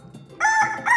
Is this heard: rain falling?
no